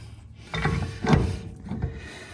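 Steel parts rub and slide together on a truck's heavy-duty iron steering knuckle, a few short scraping and clunking movements with soft metallic contacts, no speech.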